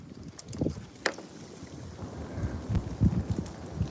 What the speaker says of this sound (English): You can hear the wind though in the trees